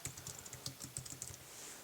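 Keys clatter on an Apple iPad 2 Keyboard Dock, a quick uneven run of soft, close clicks that trails off into quiet at the end.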